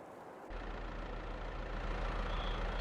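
A tractor engine idles steadily in the farming video game Farming Simulator 22, a loud, continuous low rumble that starts abruptly after a brief quiet moment and holds even throughout, with no talking.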